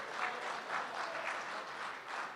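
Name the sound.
audience applause at a poetry recital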